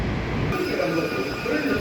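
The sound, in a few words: Moscow metro train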